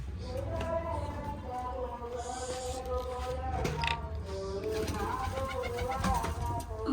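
Pigeons coo and flutter around a home loft at feeding time, with wheat grain scattered for them; low murmuring calls repeat throughout over steady background noise, with people talking nearby.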